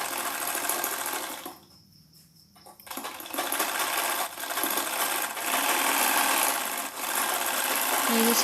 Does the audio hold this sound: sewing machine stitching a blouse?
yes